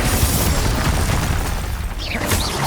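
Confringo blasting spell going off in Hogwarts Legacy, a loud, dense booming burst with rumbling low end that fills the moment, followed by whooshing magical swirls near the end.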